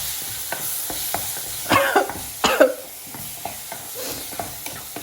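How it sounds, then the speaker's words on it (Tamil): Food stirred in a cooking pan, with rhythmic scraping strokes of a spoon over a soft sizzle, and a couple of louder cough-like bursts in the middle. "இப்போ வழக்கம் போல் கிண்டபடி கிண்டிடுவோம்."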